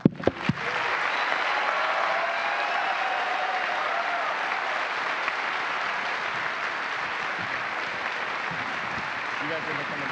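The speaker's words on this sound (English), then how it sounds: "Final applause before I turn it over to Mark Geyer." Sustained audience applause at a NASA commercial crew announcement, dense and even clapping that begins with a few sharp claps and then holds steady and fairly loud across the whole stretch.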